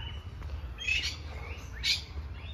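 Macaws calling in a busy park, giving two harsh, scratchy squawks about a second apart over a steady low rumble of background noise.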